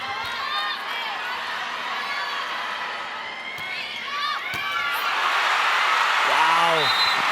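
Volleyball crowd at a professional finals match, a loud, sustained roar of cheering and shouting that swells toward the end, with a commentator talking over it.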